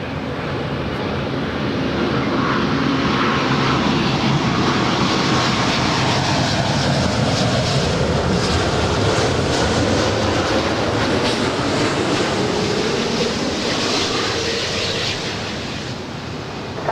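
An SAS Scandinavian Airbus A350-900 jet spools up for departure at LAX, a loud, broad, steady engine roar that swells and holds with a rushing quality, heard from a distance with no talk.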